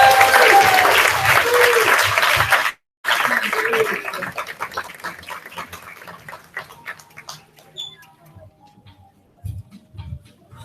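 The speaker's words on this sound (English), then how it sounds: "Cheer for Charlotte as she charges down the runway." Audience applause and cheering at an elementary school kindergarten fashion show, loud and dense for the first half, cut by a brief dropout near three seconds, then thinning to scattered claps and faint voices.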